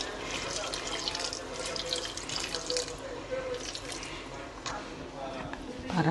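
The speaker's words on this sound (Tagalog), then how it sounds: "Lagyan na natin ng tubig. Para natin, tubig na sasabaw." Tap water runs steadily into a cooking pot to make the broth for pork sinigang, a continuous splashing pour with a louder gush near the end and a voice talking over it.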